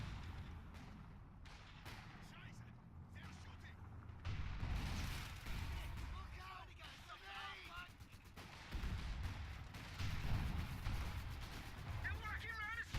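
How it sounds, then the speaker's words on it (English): Mortar and artillery fire in a Battle for Caen video game battle at Tilly-sur-Seulles: repeated sharp gunshots and heavier blasts crack at irregular intervals under steady battlefield rumble, with voices mixed in. "Possibly with some other mortar fire coming in as well."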